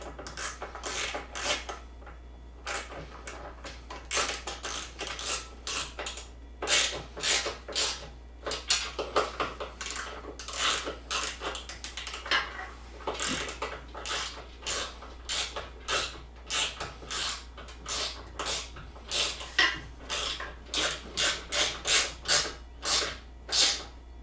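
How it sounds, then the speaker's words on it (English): A ratchet wrench with a 30 Torx bit tightens bolts while fitting a backup camera and sport mirrors on a Can-Am Maverick, making rapid bursts of clicking pawl strokes in an uneven rhythm, close and clear, with no talking. "Then we've got our ratchet and 30 Torx."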